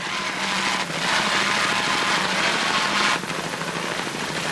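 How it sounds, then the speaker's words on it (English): Mercury inboard engines on a racing boat roar in a loud, continuous drone, easing briefly near the start and again just past the three-second mark. "Listen to those Mercury inboards."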